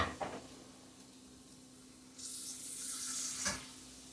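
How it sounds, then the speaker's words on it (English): Ground meat sizzles in a hot pan, a steady hiss that swells midway, with a couple of clanks from a utensil stirring it. "You can hear the sizzle."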